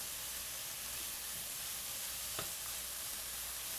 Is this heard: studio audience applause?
no